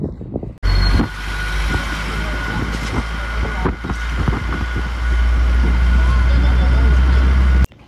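A Trax jeep travels along a rural road, its engine rumbling steadily with low road roar and occasional rattles and bumps, a little louder and heavier toward the end, and voices faintly audible inside.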